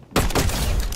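Burst of gunfire in a first-person shooter video game, a sudden loud crackling volley lasting about a second with no speech over it.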